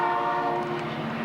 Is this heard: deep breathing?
no